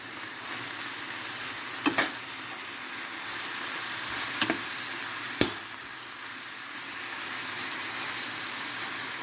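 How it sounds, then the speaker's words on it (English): A seasoning mixture is stirred into callaloo cooking in a pot, a steady soft sizzle with three sharp clinks of a spoon against the pot spaced a couple of seconds apart. "I'm just gonna stir it in"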